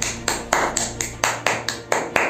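Sharp, evenly spaced claps, about nine in a little over two seconds, ring out for a church gathering, moderately loud over a low steady hum, with no voices heard.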